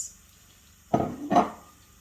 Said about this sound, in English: So as it fries, you use your spoon to separate it.